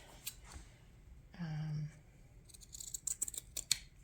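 Scissors cutting a piece of paper for tiles, a few sharp close snips followed by a brief scraping slide and a cluster of crisp cutting clicks, fairly quiet with no talking over it.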